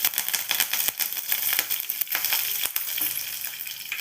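Curry leaves sizzle in hot oil for millet upma, a close crackling hiss with many sharp pops and spits throughout.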